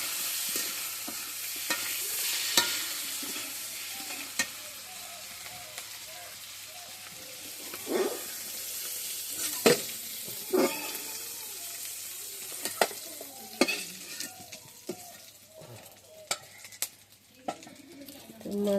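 A fish head fries in a pan, a low sizzling hiss running under intermittent scraping and clinking as it is stirred and lifted out, with faint background voices.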